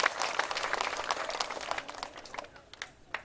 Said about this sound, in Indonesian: Tepuk tangan untuk semua yang hadir di saat ini.